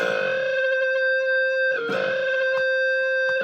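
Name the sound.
electric guitar with amp distortion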